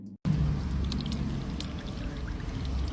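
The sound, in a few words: rusty tap water pouring out, North Miami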